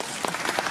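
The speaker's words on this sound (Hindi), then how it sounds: "जोरदार ताली है" A brief burst of loud crowd applause at the Shoorveer Awards 2018 ceremony, many hands clapping together at close range.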